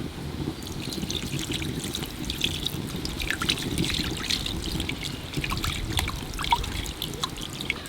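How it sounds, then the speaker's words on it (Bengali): Chhana curd is washed under running water, a continuous close trickle and splash of water pouring over the curds with soft dripping and handling noises, and no talking. "ছানাটা ভালো করে ধুয়ে নেব যাতে ভিনিগারের গন্ধ না থাকে।"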